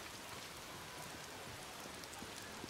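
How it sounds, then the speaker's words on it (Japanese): Rain falls in the game Days Gone, a steady, dense hiss of drops pattering on surfaces with faint scattered ticks, constant and fairly quiet throughout with no voices. "降りやがって、雨にはうんざりだ。"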